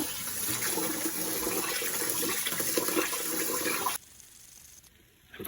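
Glutinous sweet rice being washed in water in a jar for makgeolli: a steady rush of splashing water for about four seconds, then it drops to a quiet trickle.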